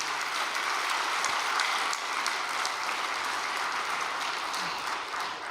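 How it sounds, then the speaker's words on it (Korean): A large audience claps steadily at a Korean religious all-night prayer gathering, dense sustained applause filling the whole stretch at even volume with no talk over it. "여러분들 먼저 참 어머니께 감사와 영광의 박수"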